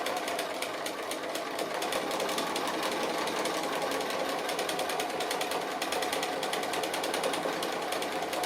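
Domestic sewing machine stitching appliqué, running a doubled line of stitches over a cookie motif; steady rapid needle chatter close up and continuous for the whole stretch, with no talk.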